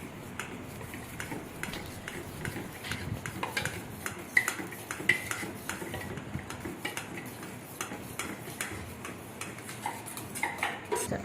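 Melted chocolate mixture being stirred into beaten brownie batter in a bowl, a steady run of utensil scrapes and light clinks against the bowl, close up and fairly quiet, with no talking.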